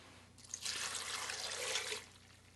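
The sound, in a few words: pouring 2 cups of water into an Instant Pot with cashews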